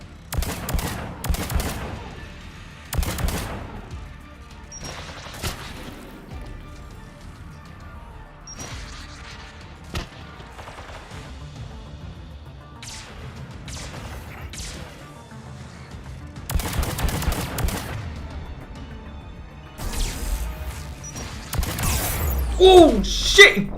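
Gunfire in Mass Effect 3 Legendary Edition comes as repeated sharp shots and bursts scattered across a long combat stretch, some loud and some distant, with occasional voice sounds.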